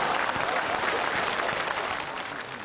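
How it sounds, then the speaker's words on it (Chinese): A theatre audience at a comedy sketch claps in a thick, sustained round of applause that tapers slightly toward the end, with no voices on top. "从大家的掌声当中啊"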